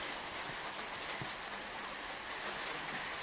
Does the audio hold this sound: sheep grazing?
no